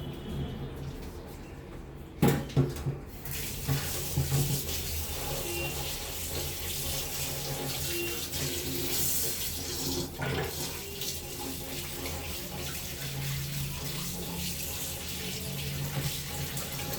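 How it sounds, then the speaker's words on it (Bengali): Running tap water splashes steadily into a sink as katla fish are washed, a continuous rushing hiss with a few clattering knocks near the start, fairly close and with no talk. "মাছগুলো আমি এখন ধোবো"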